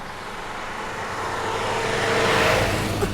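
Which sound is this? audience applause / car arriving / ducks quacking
car arriving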